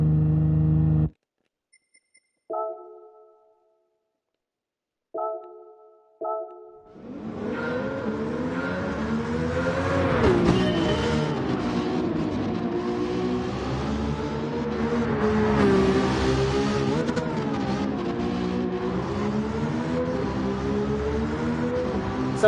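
A 2002 Nissan Skyline R34 GTR V-SPEC II Nür, white body kit, races in a Gran Turismo 7 time trial: a few short menu blips, then a loud, sustained engine roar rising and falling through gear shifts, alone without voices.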